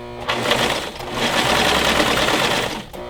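A serger stitches a seam on a beginner's dress while trimming off the excess fabric, running as a loud, steady motor whir for about two seconds between brief stops at the start and end.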